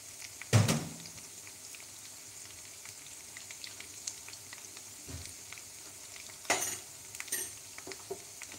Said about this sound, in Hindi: इधर से फिंगर चिप्स फ्राई कर रहे गाइस।